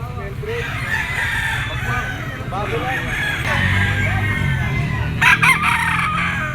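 A White Kelso gamefowl rooster crows close by, giving a couple of long, loud cock-a-doodle-doo calls. Someone talks over the crowing, and a few sharp clucks or knocks sound near the end.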